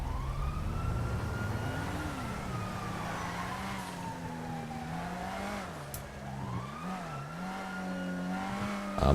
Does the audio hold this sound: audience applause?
no